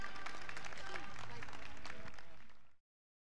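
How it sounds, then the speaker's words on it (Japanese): A hall audience gives a round of applause for Yamada, the men's winner at a 2019 PERFECT Tour professional darts final in Fukushima. The dense clapping is close and steady, then cuts off abruptly. "優勝されました山田プロに今一度盛大な拍手をお願いいたします"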